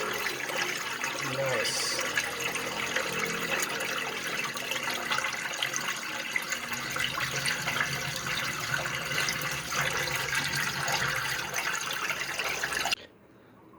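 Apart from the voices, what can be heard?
washing machine water draining through 3D-printed drain adapter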